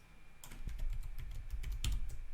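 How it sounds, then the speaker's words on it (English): Fingers tap steadily on a computer keyboard while entering title text, a close run of quick, even keystrokes with a couple of heavier presses, heard alone. "And type whatever you like."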